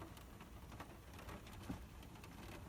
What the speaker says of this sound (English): I think you might be able to hear it's still raining